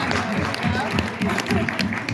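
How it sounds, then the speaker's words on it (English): Audience at a SXSW event applauding, a short burst of dense clapping mixed with crowd noise and a voice talking over it throughout. "clap it up, clap it up, clap it up, clap it up,"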